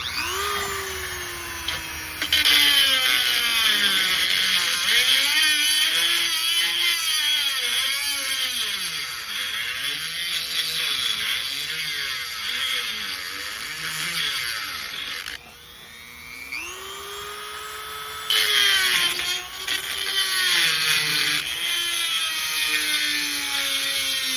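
A small Dremel rotary tool grinds a square bolt hole round on a Jeep Grand Cherokee WJ part, its high whine dipping and rising as it bites into metal, loud and sustained with brief pauses between passes.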